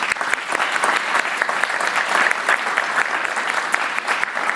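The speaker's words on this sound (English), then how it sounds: "So a big round of applause for the teaching team." A crowd at a school showcase event claps for the teaching team, dense and lively applause with scattered sharp individual claps, continuous and fairly close, with no talking.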